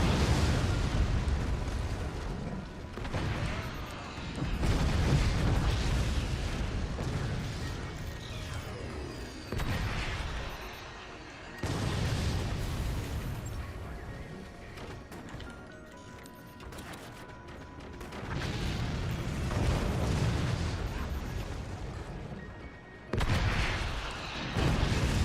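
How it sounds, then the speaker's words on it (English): Rockets explode in the physics-based strategy game Forts, heavy rumbling blasts and crashing debris rolling in repeated waves at high volume, with no talk over them. "And I can hit this with the rocket."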